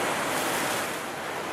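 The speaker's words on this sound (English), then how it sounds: "There's the river." A river in Greenbrier, bordered by old rock walls, gives off a steady, broad rushing hiss of flowing water, close and even throughout, with no voices.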